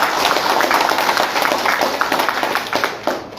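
A crowd of volunteers claps and cheers for the Nasdem party at a political rally in Kuala Lumpur, dense and loud applause sustained across the whole moment.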